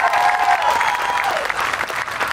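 A large crowd at an outdoor Independence Day celebration in Clarksville gives a loud, continuous round of applause, with a whistle audible over the dense clapping.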